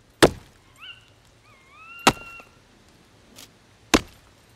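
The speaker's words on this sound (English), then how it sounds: "the next thing we need to do is just start cutting up our wood" In a survival video game, wood is chopped with three sharp, loud chops spaced about two seconds apart, and faint bird-like whistles sound between the first two.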